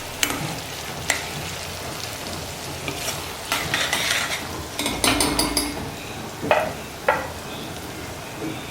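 Onions fry in a pan for a spicy Maharashtrian tambda rassa, with a soft continuous sizzle broken by a spatula scraping and clinking against the metal at close range.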